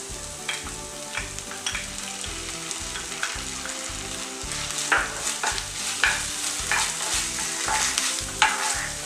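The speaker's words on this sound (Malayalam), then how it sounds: "ഇതിൻ്റെയൊക്കെ ഇട്ട ചേരുവിൻ്റെ പച്ചമണം മാറുന്ന വരെ നമുക്കിന്ന് വഴറ്റിയെടുക്കാം" Chicken filling with tomato sauce sautéing in a pan crackles loudly with rhythmic scraping strokes of a spoon stirring, close and busy throughout.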